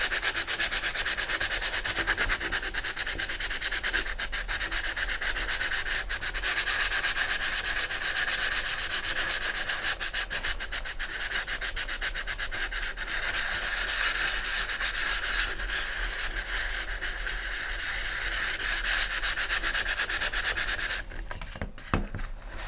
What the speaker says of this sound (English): where I was sanding right along the edge, the middle, because it's recessed, the sandpaper is not getting down there